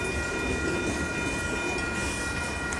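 A train rolls past the Fondren Road railroad crossing near South Main Street in Houston, Texas, on the Union Pacific Glidden Subdivision, a steady loud rumble with a continuous ringing tone throughout.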